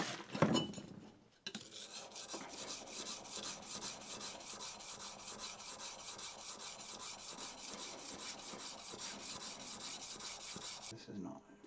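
Plane blade rubbed back and forth on an 800 grit diamond stone, a steady, fast, gritty scraping rasp that keeps going for about ten seconds at close range, with a brief knock at the start.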